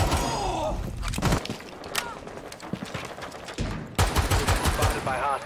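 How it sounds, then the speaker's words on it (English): Shotgun blasts and rapid gunfire in Rainbow Six Siege crack through busy in-game action, with heavy bursts near the start and again toward the end, mixed with footsteps and game voices. "Shotgun!"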